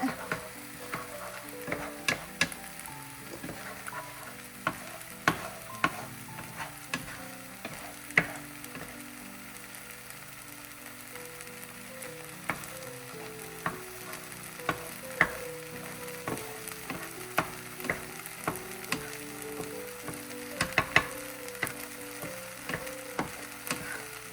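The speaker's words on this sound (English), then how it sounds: "I am going to crack 1 egg right in this pan. And I'm going to cook it on the side a little bit." An egg fries in a pan beside ramen noodles, giving a soft steady sizzle under frequent sharp clicks and scrapes of a utensil against the pan.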